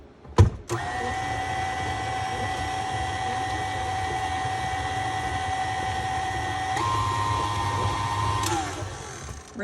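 A stand mixer whirs steadily while whipping strawberry butter, a high motor whine with a brief clunk at the start and a shift in pitch near the end, close and alone.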